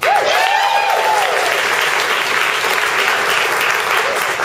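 Steady, loud applause from a theatre audience greeting performers at a season announcement, dense clapping throughout with whoops and cheers rising above it near the start.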